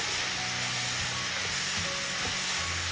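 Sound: stirring shredded cabbage frying in pan

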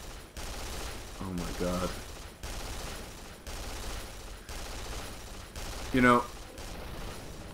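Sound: gunfire in video game Duke Nukem Forever

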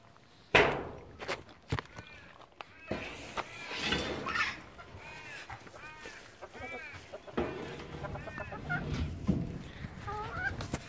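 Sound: chickens clucking and walking

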